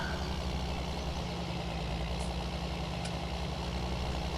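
Modified, power-boosted tractor engine idling in Farming Simulator 19, a continuous heavy low-frequency drone running steadily through the clip with no talk.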